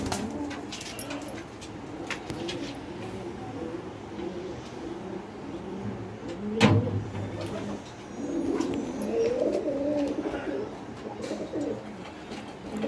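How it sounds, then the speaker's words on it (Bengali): Pigeons in a home loft with nesting boxes, including white pigeons sitting on eggs, giving soft low coos and rustling at close range, with one louder burst midway and some faint background noise. "আর ওইখানে দেখছেন দুটো সাদা পায়রা বসে আছে, ওরা ডিম দিয়েছে"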